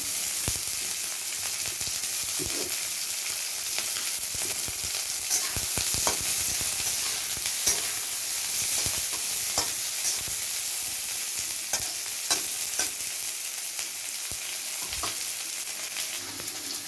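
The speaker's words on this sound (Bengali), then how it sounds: "এখন পেঁয়াজটা ভেজে নেব" Onions sizzling in oil in a pan, a continuous bright hiss of frying with scattered small clicks of stirring, close and steady throughout, no voices.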